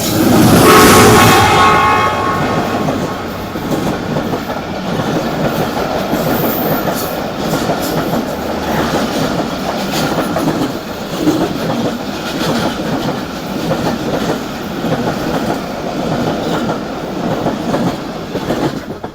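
The 14 Down Awam Express between Peshawar and Karachi passes close by on the line in Pakistan, a loud horn at first, then a long steady rumble and rhythmic clatter of wagons rolling past.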